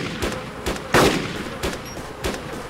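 Gunfire in the DayZ video game: five sharp, evenly spaced shots ring out about half a second apart, with one louder crack near the start and a faint background hum between them.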